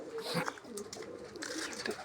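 Pigeons nesting in a loft with their young coo softly in low, rounded calls, repeating several times at a faint level over a steady background hiss.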